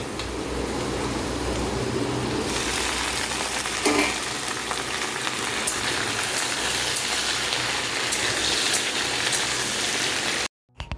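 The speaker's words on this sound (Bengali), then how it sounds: "এখানে ভেন্ডি আলু ভাজা হয়ে গেছে আলুটা প্রথমে ছেড়েছি আলুটা একটু হালকা ভাজা হওয়ার পরে আমি ভেন্ডিগুলো দিয়েছি" Potatoes and okra fry together in a wok, giving a steady, dense sizzle with a soft hiss that runs on without pause and with no voices.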